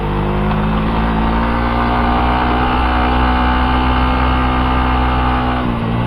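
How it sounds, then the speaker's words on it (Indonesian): A Suzuki GSX-R150 motorcycle engine braking while climbing a steep road toward Puncak, its engine note droning loud and steady throughout, close to the rider, with a brief dip near the end. "Ini gue nggak ngerem sama sekali guys. Ini gue pakai engine brake."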